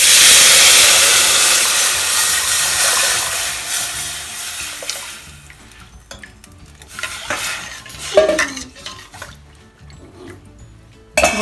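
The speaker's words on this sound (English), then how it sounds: "I'm going to immediately add this dal" Tuvar dal drops into a hot pan with a loud hiss that fades over several seconds, followed by scattered scraping and clinking of a spoon stirring against the pan.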